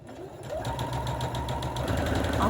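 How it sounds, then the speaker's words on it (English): A sewing machine runs steadily, stitching the seam of fabric bunting with right sides together, a continuous close mechanical whir that builds slightly in loudness over a couple of seconds. "So we're sewing those right sides together."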